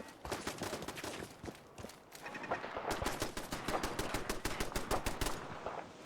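Automated turret fire in Fallout 4, faint and distant, a long stream of rapid staccato shots that grows denser and steadier in the second half.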